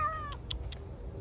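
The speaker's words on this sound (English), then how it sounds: "Look how beautiful this cat is." A cat meows once in a short, clear harmonic call, followed by a couple of faint brief chirps against a low steady background hum.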